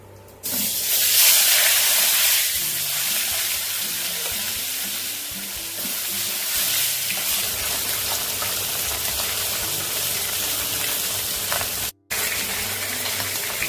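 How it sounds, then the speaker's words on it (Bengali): Katla fish heads fry in hot oil, a loud, dense sizzle and hiss close by that holds steadily for over ten seconds, broken by one brief cut of silence near the end. "সব মাছের মাথাগুলো আমি ভেজে নেবো"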